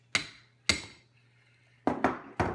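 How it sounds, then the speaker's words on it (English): A hammer taps out the air restrictor of a Nerf Snapfire blaster on a work surface: five sharp metallic knocks, two spaced apart, then a quick cluster of three, close and fairly loud. "literally hammer out the air restrictor"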